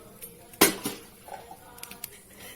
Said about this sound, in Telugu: ముందుగా స్టవ్ వెలిగించి బాండి పెట్టుకోండి